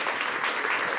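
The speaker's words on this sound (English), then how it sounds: "Round of applause for Reginald Dwayne Betts." A celebration audience breaks into a steady, dense wash of applause, loud and even across the short moment with no pauses.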